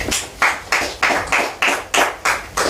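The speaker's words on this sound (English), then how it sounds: "A round of applause for them." A small group at a spelling contest claps in steady, evenly spaced bursts, a short round of applause with no voices.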